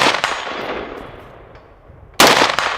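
Two loud rifle shots from an H&R A2 Government Carbine on a shooting range, one at the very start with a long decaying echo and a second sharp report near the end.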